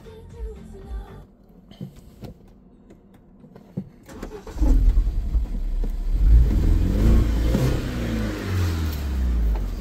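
BMW E87 120i four-cylinder engine running rough with two injectors disabled: after a quiet stretch with small clicks, the engine catches and settles into a loud, uneven, lumpy idle close by, with a few revs.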